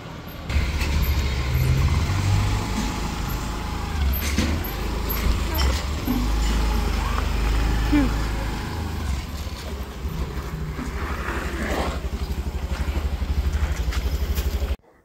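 A vehicle driven by a young woman, its engine rumbling steadily and close throughout with road noise and brief brake hiss, while people talk over it.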